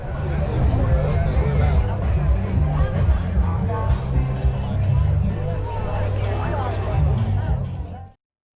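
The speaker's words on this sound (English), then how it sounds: "Crowd's getting bigger." A dense crowd murmurs and chatters on a beachfront sidewalk at Orange Beach on New Year's Day, a steady wash of overlapping voices with a low rumble beneath, continuing evenly until it stops suddenly.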